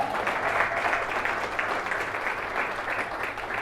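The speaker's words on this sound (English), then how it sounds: "Give me a round of applause." Audience applause at a motivational success talk, a dense, continuous wash of clapping from a large crowd, fairly loud and steady with no voices over it.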